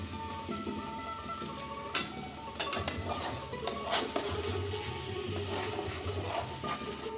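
Lote fish curry with potato and eggplant is stirred in a pan with a metal utensil, giving soft scraping and clinks of the spoon against the pan over a faint sizzle, fairly quiet and without talk.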